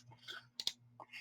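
A computer mouse gives two quick, crisp clicks close by, with faint soft handling noises around them over a low electrical hum.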